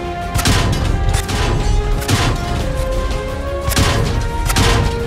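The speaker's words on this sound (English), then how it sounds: "Low damage sounds like this." Low-damage hit sounds on a tank in World of Tanks, heard as several loud, close, crunching impacts with a metallic ring, repeating at irregular intervals over a rumbling background.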